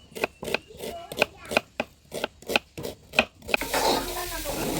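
A knife chops onion on a board for masvadi batter in a village kitchen, about a dozen sharp, evenly spaced strokes close up, followed by a brief scraping, rustling sound.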